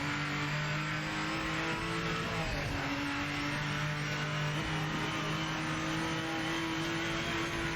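Race car engine in the Project Motor Racing video game, a steady sustained drone with shifting pitch and tyre noise, continuous and fairly loud throughout with no talk.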